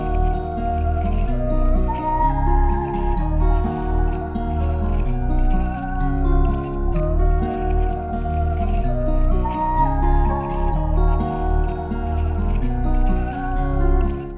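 A guitar sample for a trap beat loops as a melodic plucked phrase over heavy low bass thumps, steady and loud with no voices.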